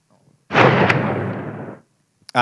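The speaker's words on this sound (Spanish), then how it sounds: "me gustan mucho los delays de los disparos que están entre medio de los bosques o de las montañas" A single loud gunshot blast that echoes among forest or mountains, ringing out and decaying over about a second, followed by silence and a brief sharp burst at the end.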